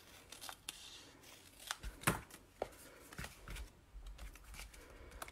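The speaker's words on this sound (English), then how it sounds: "I'm going to use my scissors." Scissors trim paper for a handmade stamped card: a quiet, close series of irregular snips and crisp paper rustles, with no talking.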